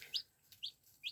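Baby chicks, including a Silver Gray Dorking among other breeds, give three short, high peeps spaced evenly about half a second apart, faint and close with no other sound.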